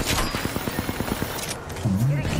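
Rapid automatic gunfire from an R99 submachine gun in Apex Legends, a fast burst of about ten evenly spaced shots close up, fading into game noise with a brief rising tone at the end.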